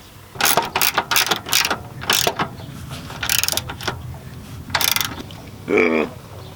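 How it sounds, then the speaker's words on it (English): A ratchet tightens the collar bolts of a car subframe, several bursts of rapid clicking with short pauses between, close and fairly loud with no voices. "And then we'll tighten that back up."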